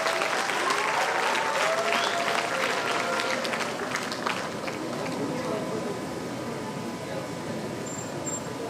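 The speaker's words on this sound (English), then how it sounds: "Let's cheer them louder." Sustained audience applause fills a hall at a National Service Scheme award ceremony, loud and continuous, with voices mixed into the crowd noise throughout.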